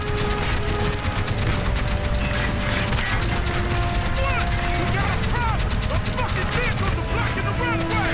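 Sustained machine gun fire in Call of Duty Black Ops, a loud, relentless rapid-fire stream of shots lasting the full stretch, with a player talking over it and occasional blasts.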